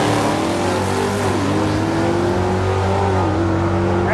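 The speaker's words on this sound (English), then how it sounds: "Watch this Dodge rip it out." A Dodge drag car accelerates hard down a dragway, its loud engine roaring steadily with rising and dipping pitch as it pulls through the gears, close and unbroken for the whole stretch.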